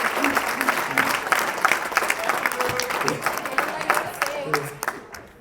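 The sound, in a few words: audience applause for Mark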